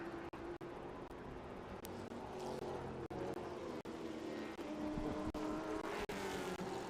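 A Nitro Motorsports Ford Mustang TA2 race car laps Watkins Glen during qualifying, its engine droning steadily at a distance with faint shifts in pitch and no talk over it.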